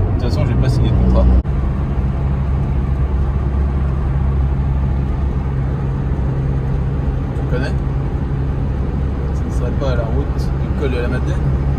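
A Peugeot 205 drives along a road on a road trip, its steady low engine and road rumble heard from inside the car, with people talking over it.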